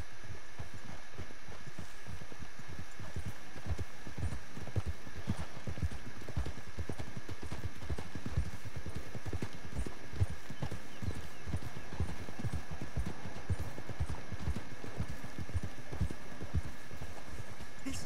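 Horse hooves clip-clop steadily in Red Dead Redemption 2, a fast, even rhythm of close, muffled thuds over a low hum, with an occasional faint whinny.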